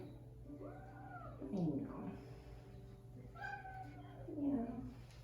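A pet cat meows during a veterinary orthopedic exam, letting out several drawn-out, complaining meows close by, with a person speaking softly in between.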